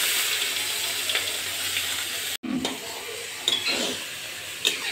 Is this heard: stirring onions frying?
yes